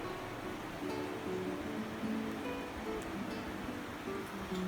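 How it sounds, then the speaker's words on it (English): Water poured into a hot pan of browned spices while making dal tadka, a steady, fairly loud rushing and hissing wash that holds unbroken from start to finish, with faint low bubbling tones underneath and no talking. "now we're gonna add the water"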